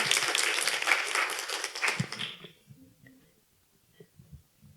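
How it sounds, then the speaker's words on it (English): Applause from the audience at the Healing Hearts of Families annual conference, a broad clatter of clapping that carries loudly for about two seconds and then cuts off, leaving low murmurs and faint room noise. "So if you'll give her a round of applause"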